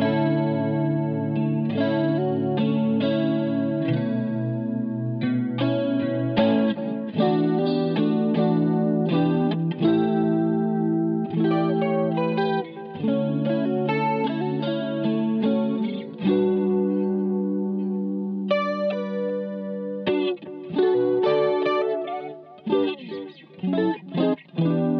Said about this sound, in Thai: คราวนี้เราลองเล่นคู่กันนะครับคอรัสกับดีเลย์ลองฟังเสียงดูนะ